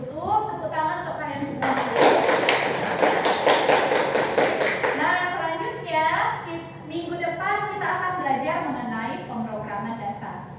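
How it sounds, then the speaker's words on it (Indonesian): A classroom of students claps for about three seconds in a dense burst of rapid hand claps, while a teacher's voice talks before and after the applause. "tepuk tangan untuk kalian semua"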